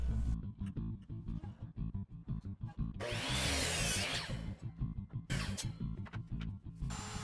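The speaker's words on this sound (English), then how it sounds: "I set up a stop block on the miter saw and I cut a bunch of mitered pieces" A power miter saw with a stop block cuts mitered wood pieces for decorative storage boxes. It makes two loud whining bursts, one longer and one shorter, between quieter workshop handling noises.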